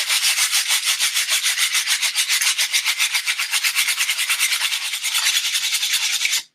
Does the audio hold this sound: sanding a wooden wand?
yes